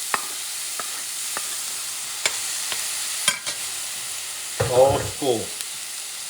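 Garlic and grated tomato frying in a pan, with a continuous hiss of sizzling and a few sharp clicks of stirring, close, while someone briefly speaks near the end.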